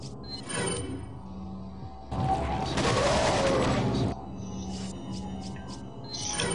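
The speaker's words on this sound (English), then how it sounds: "Throw the grenade, run like hell." A grenade explodes in Resident Evil 4, a loud burst of noisy blast lasting about two seconds in the middle, framed by quieter game ambience and mechanical clicks before and after.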